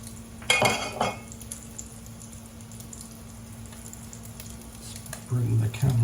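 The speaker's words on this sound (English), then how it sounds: "Bring the camera over so you can see the frying process." Sausages frying in a pan in a home kitchen, a faint steady sizzle under clinks of a utensil against the pan at the start and a louder clatter near the end.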